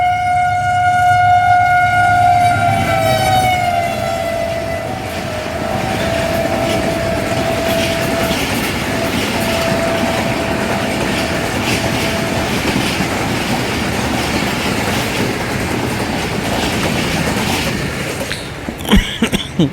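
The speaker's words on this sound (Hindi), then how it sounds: "शाह हुसैन एक्सप्रेस भी वहाँ से चल पड़ी" The Shah Hussain Express pulls out of a station on the line between Sadiqabad and Bahawalpur, a loud steady rumble of rolling wagons and clacking wheels, with a squealing tone and a horn-like blast early on, fading slightly later.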